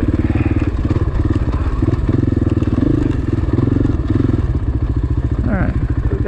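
A dirt bike engine chugs steadily and close on a trail at Table Mountain, Washington, with a rhythmic throbbing putter, occasional clatter over the ground and a speaking voice briefly present.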